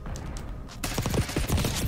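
Gunfire in Black Ops 6 bursts in suddenly after a quiet stretch, a loud, close rapid volley of overlapping shots that continues to the end.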